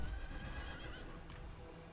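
A horse neighs and whinnies in the Diablo IV video game, a steady close call lasting the whole moment against a dense game soundscape, with faint hoofbeats mixed in.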